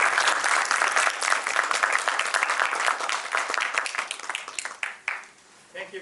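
An audience at a lecture event claps warmly to welcome a speaker. The dense, close applause holds steady for several seconds, then thins into a few scattered claps and fades out.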